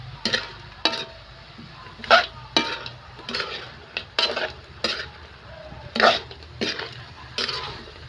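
Chicken adobo stirred in a frying pan, a utensil scraping and clanking against the metal in repeated sharp strokes over a soft steady sizzle, close by and loud.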